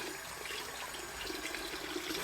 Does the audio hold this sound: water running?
yes